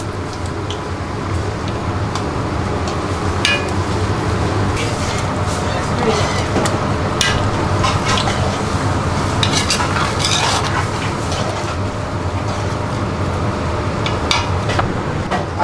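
Onion goes into a pan for a tomato and onion gravy and is stirred, giving steady scraping and clinking of a utensil against the pan over a low sizzle, while someone talks.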